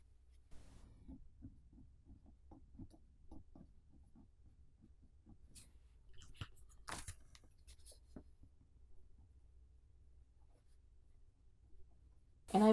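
Pen scratching on paper while writing a large number in a bullet journal, a close, quiet run of short, scratchy strokes with small pauses between them.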